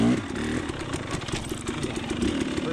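A KTM dirt bike engine revs hard while climbing a hill, a steady loud mechanical drone with rapid rhythmic clatter, close to the rider and continuous throughout.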